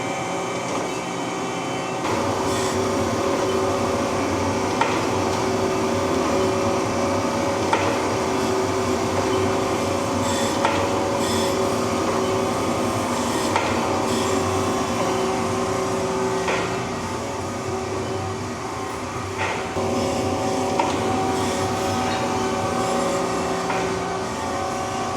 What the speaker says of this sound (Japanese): ウルトラファインバブルなしで今から削ってみたいと思います。